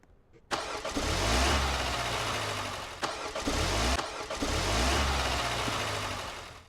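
A car engine in the video game Dusty Trip cranks and starts, then revs and idles in loud, throaty surges. It cuts out briefly twice before starting again, with no talking.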